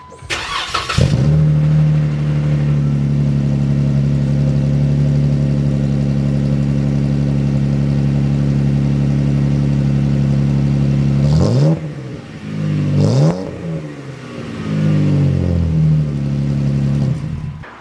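A Jeep JL engine cranks and fires on a cold start, then settles into a deep, throaty idle through a loud new exhaust, with a couple of short revs near the end.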